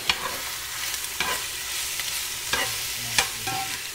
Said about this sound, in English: Let's get this stirred up nice and juicy.